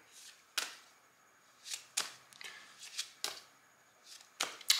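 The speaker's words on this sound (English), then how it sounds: "The last setup here would be to shuffle the case deck and begin discovery" A deck of game cards for a legal-themed board game is shuffled in quick bursts, each riffle a crisp, close, papery flutter separated by short quiet gaps, about seven shuffles in all.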